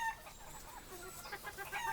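An old rooster crows and clucks close by, a short hoarse call alone with no talk over it.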